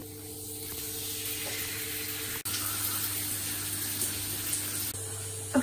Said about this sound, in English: It's time to get in the shower and wash the gel out of my hair